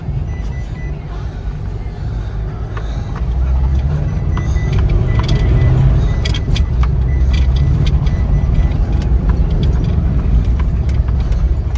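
Constant low engine rumble of a truck on the road, loud and steady, with light rattling on top and a faint voice now and then.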